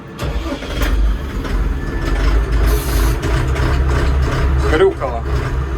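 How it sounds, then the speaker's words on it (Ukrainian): A Kentavr 504 mini tractor engine cranks and catches with the clutch pressed, then runs with a loud, rough, chugging idle close by, with a voice briefly audible. "витискаємо щеплення і запускаємо двигун"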